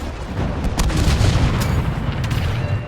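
Heavy artillery fire in the Star Wars Battlefront II (2017) video game, a continuous deep rumbling barrage with repeated booms and sharp blasts layered through a loud battle din, with no talk.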